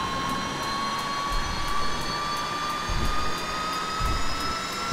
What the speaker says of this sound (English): Release the switch, and the engine continues to start up on its own.